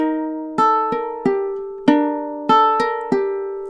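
A ukulele plays one measure of a Christmas melody as plucked, ringing notes, about eight of them in an uneven rhythm, clear and close with no voices.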